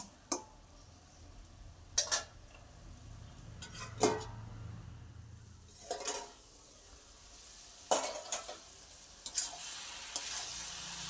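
Cabbage frying in a pan, a low steady sizzle broken every couple of seconds by sharp spatula scrapes and clinks as it is stirred and mixed.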